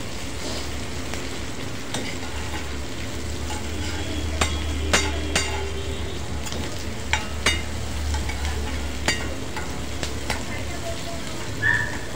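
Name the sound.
cashew masala sautéing in oil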